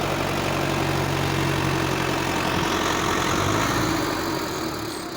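A Sonalika Sikander tractor pulling a fully loaded trolley runs with a continuous, mid-to-low engine drone that stays close and steady, then eases slightly toward the end.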